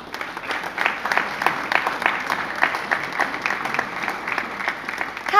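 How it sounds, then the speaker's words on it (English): Audience applause at the Gaisce Gold Awards ceremony with the President of Ireland, a steady dense clapping that holds throughout at a fairly even level. "You're doing amazing on the applause"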